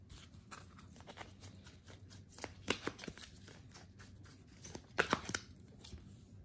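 Tarot cards are shuffled and drawn, making soft, close papery riffles, slaps and flicks in an irregular rhythm with a few sharper snaps. The sound is quiet overall.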